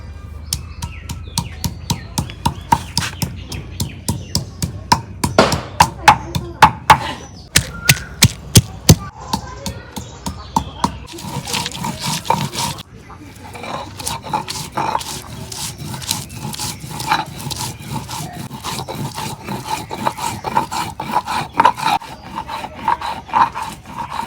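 Spices ground by hand on a shil-pata grinding stone, a steady run of rough rasping strokes, quick and regular at first, then a denser continuous scraping, close and loud with no talk.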